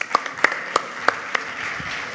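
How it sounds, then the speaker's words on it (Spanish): Sparse hand claps from a small audience at a technical talk, a handful of distinct sharp claps in an uneven rhythm over a soft room background, fading out toward the end. "Un fuerte aplauso y muchas gracias."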